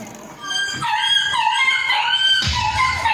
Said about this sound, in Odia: ସିଡି ତଳେ କୁକୁରଟା ଚାରି ପାଞ୍ଚ ଛୁଆ ପଳେଇଛି